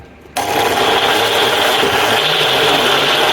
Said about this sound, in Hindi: अब सभी चीज़ों को मिक्सी से हम एकदम महीन पीस लेते हैं।